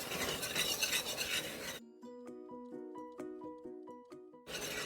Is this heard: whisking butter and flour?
yes